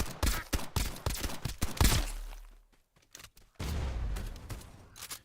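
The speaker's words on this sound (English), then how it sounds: "So as you can see, the SMG bullets aren't really cutting it" Rapid SMG fire in a game during a boss fight, dense bursts of close shots that break off, then return after a short lull with scattered heavier impacts.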